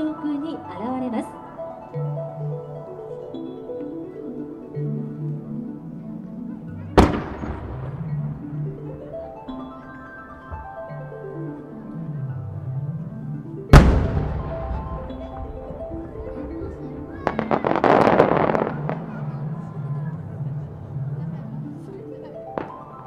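Booming firework bursts crack out a few times over sweeping music with rising and falling tones at the Twin Ring Motegi fireworks festival, with a denser crackling cluster near the end.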